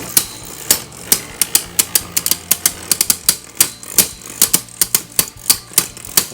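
Two stamina-type Beyblade tops clashing in a stadium, producing a rapid, irregular series of loud, sharp metallic clacks over a faint whirring spin, with no talking.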